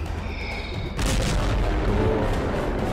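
Animated explosions in a Skibidi Zombie Universe scene, a faint high tone giving way to a sudden boom followed by a sustained rumbling blast.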